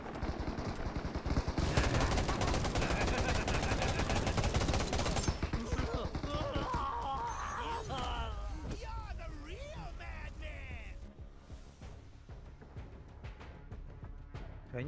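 Rapid automatic gunfire from a video game battle against air reinforcements crackles in dense, loud bursts for about five seconds, then fades as voices talk over the remaining game sounds.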